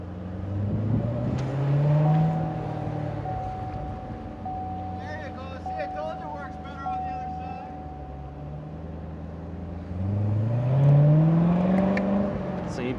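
A 2018 Chevrolet Corvette Z06 3LZ convertible revs hard behind a building, two loud rising engine surges bracketing a quieter cruising stretch, with someone speaking briefly in between.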